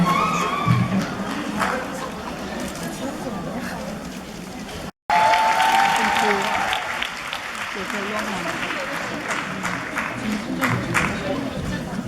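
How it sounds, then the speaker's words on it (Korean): Applause from the audience at a popular culture and arts award ceremony, a steady wash of clapping that drops out briefly and then returns more strongly, with voices talking through it. "박수 부탁드리겠습니다."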